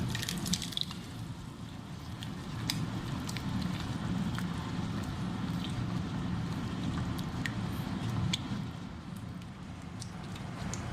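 Yogurt goes into a pan of frying spices, producing a dense, low bubbling sizzle with wet squelching and occasional spatter ticks, continuous and close, with no voices.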